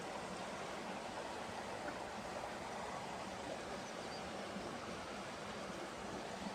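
A stream flows right beside a wash house, giving a steady, dense rush of water that holds even and unbroken from start to finish, fairly close and with no voices over it.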